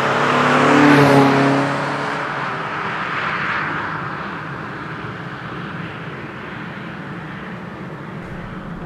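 A Citroen BX 16v car engine under way, a loud revving drone that peaks in the first two seconds and then settles into a steady, slightly lower cabin roar as the car drives on.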